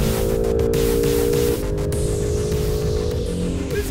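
A new Acura NSX sports car drives past during a Michelin track driving experience, giving a loud, steady engine drone with a pitch drop about halfway through, as if shifting gear, with no talk over it.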